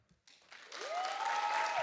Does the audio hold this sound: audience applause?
yes